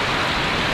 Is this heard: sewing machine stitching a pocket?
no